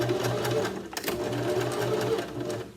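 A sewing machine stitches fabric in a steady, fast mechanical rhythm of needle strokes with a low motor hum, close and fairly loud, pausing briefly near the middle before resuming.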